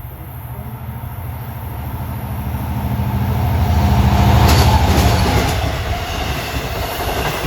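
A Long Island Rail Road train from Grand Central bound for Huntington rolls past on the Main Line, a loud, close rumble of wheels and cars that swells toward the middle and then eases, with no voices over it.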